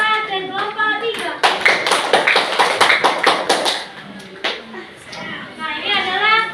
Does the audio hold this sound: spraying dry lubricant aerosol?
no